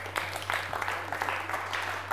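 Studio audience applause on a Georgian blitz quiz show, a steady mid-level patter of many hands clapping with an even hum underneath, no voices over it.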